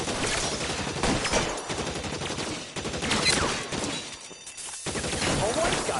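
Gunfire in L.A. Noire as a shootout rages: clattering volleys of shots and crashes, with voices shouting over the continuous fire.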